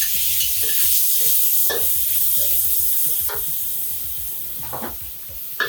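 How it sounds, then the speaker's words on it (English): Fermented yellow bean paste being sautéed in hot oil in a pan, a close steady sizzle with repeated scraping stirs of a utensil against the pan, no voices. "So here we are using 2 tablespoons of fermented yellow bean paste. Saute it until it's fragrant."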